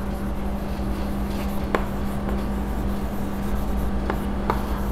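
Pen scratching across paper during an accounting lesson, a steady close rustle with a few sharp ticks, over a constant low electrical hum.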